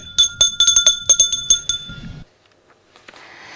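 A small bell rings in a quick run of bright, close tinkling strikes for about two seconds, then fades to near silence with faint background noise.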